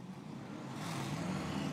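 Nissan 370Z drift car engine and side exhaust roaring at a steady high pitch during a Formula Drift battle run, a continuous mid-distance drone with no talk over it.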